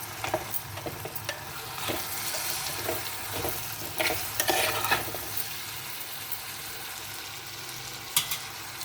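Drumstick pieces sizzle and crackle in a pan with fried onions, salt, chili powder and turmeric, a steady close hiss broken by stirring scrapes and occasional louder spatters.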